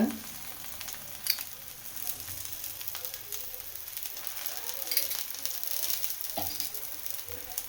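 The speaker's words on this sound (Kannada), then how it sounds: "ಈಗ ಇದಕ್ಕೆ ಸ್ವಲ್ಪ ಸ್ವಲ್ಪ ಆಯಿಲ್ನ ಹಾಕೊಳ್ತಾ ಇದ್ದೀನಿ ನಾನು ಬೇಗ ಬೇಯಲಿ ಅಂತ" Rice roti sizzles gently in oil on a pan, a soft continuous frying crackle with occasional louder pops and stirring sounds, fairly quiet and close.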